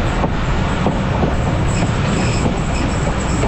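A passenger train rolls into Rawalpindi railway station with a loud, continuous rumble of wheels on track, faint clicks and some squealing. Heard from on board, with no talking.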